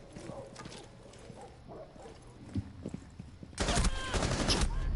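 Rapid gunfire in Rainbow Six Siege rings out as an exchange of shots, starting with scattered cracks under a busy game soundscape and swelling into a loud, dense burst of firing near the end.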